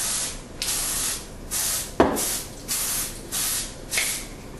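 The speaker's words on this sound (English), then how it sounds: "I'll be greasing the parchment with oil spray." Cooking oil spray hisses onto parchment paper in a quick series of short, close bursts, about eight puffs in a steady rhythm, with no voices.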